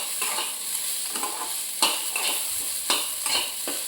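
Oil sizzles steadily in a pan with garlic and chillies frying while a spoon scrapes and stirs in several distinct strokes, close up with no talking.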